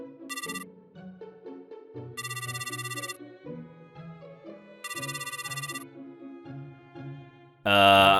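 A phone rings while a call is being returned, its melodic ringtone repeating in regular phrases with brighter chime bursts, then ending in a sudden loud burst.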